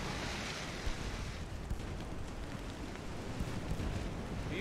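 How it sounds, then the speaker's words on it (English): In the Ultimate Admiral Dreadnoughts naval game, waves wash over a battleship's deck as a steady, fairly soft rush of surf and churning water with no voices. "the waves are going over the top of the ship"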